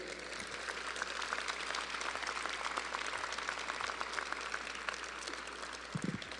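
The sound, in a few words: applause for graduates' family members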